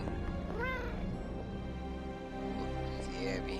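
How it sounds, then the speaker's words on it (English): A cat in the video game Marvel's Midnight Suns gives a couple of short meows over a steady bed of background music, fairly close and clear. "It's the cat."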